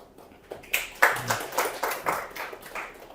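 Scattered audience clapping follows a poem recitation at a church talk, with sparse, uneven claps starting and fading in a quiet hall instead of a full ovation.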